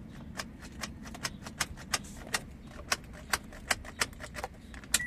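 A customer's car that won't start, with a suspected starter fault, gives a steady run of sharp clicking ticks at an irregular pace for several seconds over a low idle-like hum, close by, with no engine catching.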